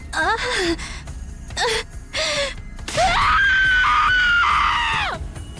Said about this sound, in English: Well done on that scream.